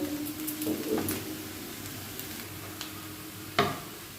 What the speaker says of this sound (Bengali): এই যে ভেজে রাখা সবজিগুলো সেগুলোকে আমি দিয়ে দেবো ভেজে রাখা ডিমটা দিয়ে দেবো